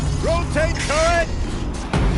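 A turret rotating in the video game Horizon Zero Dawn gives off a few rising mechanical whines and creaks in quick succession. The sounds are close and fairly loud, with a short gap before a final burst.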